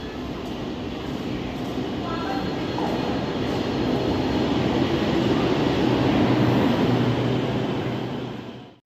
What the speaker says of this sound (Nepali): आयो हाम्रो मेट्रो आयो।